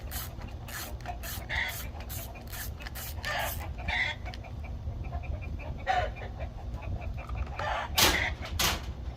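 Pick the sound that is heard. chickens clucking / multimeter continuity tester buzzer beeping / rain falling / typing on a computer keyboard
chickens clucking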